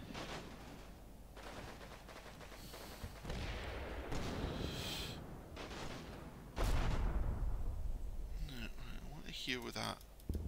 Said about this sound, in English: Those mortars are coming in.